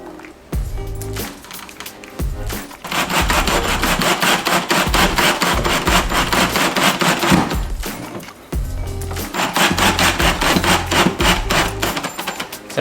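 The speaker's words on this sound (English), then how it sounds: "It's important to keep good pressure on the screw as you're doing it." A power drill drives screws into pre-drilled holes while kitchen shelves are installed. Loud close bursts of buzzing, rattling drive are separated by short pauses, and no voices are heard.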